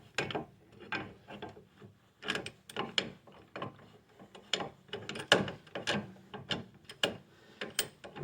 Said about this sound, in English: Right now, I'm compressing the caliper back down.